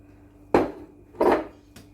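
Two dull knocks and scrapes against a bowl as apples are mixed into batter, spaced about a second apart, then a lighter tap, close and fairly loud.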